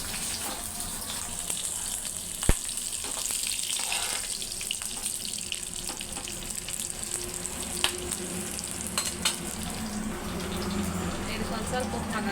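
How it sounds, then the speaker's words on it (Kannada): Green chillies fry in a pan with a continuous soft sizzle and hiss, close and fairly even, with a few sharp clicks of utensils. Nothing is spoken. "ಎಲ್ಲ ಮೆಣಸಿನ್ಕಾಯಿ ಹಾಕಿ ಸ್ವಲ್ಪ ಮೆಣಸಿನ್ಕಾಯಿ ಫ್ರೈ ಆದರೆ ಖಾರ ಕಡಿಮೆ ಆಗ್ತದೆ"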